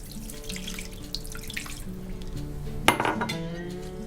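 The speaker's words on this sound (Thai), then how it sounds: "เสร็จแล้วก็ เติมน้ำลงไปค่ะ" Tap water pours into a bowl of chicken set to soak, a close, steady splashing stream, followed by a brief clink of a dish or utensil as the flow changes.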